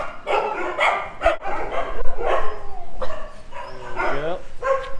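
Several dogs bark, yip and whimper at a dog shelter in Phuket, a busy, overlapping chorus of close barks mixed with people talking nearby.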